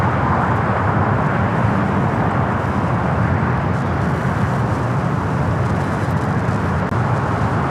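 A Hawaiian Airlines airliner taking off from the south side of LAX on flight 963 to Lahui, its engines a loud, steady broadband roar that holds for the whole stretch without any talk.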